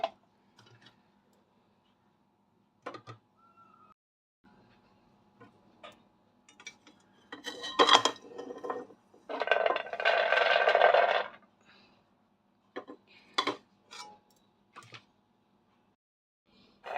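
Roasted peanuts tipped from a pan onto a plate, giving a dense rattling patter for a few seconds amid scattered light clicks and taps, with no talking.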